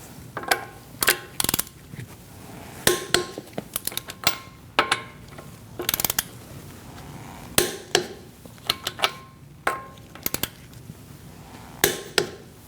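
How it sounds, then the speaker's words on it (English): A torque wrench tightens the lug nuts on a 2013-2019 Cadillac ATS to 103 foot-pounds in a crisscross pattern. It makes repeated sharp ratchet clicks and metallic snaps in uneven bursts, close by. "We're going to torque our lug nuts to 103 foot-pounds."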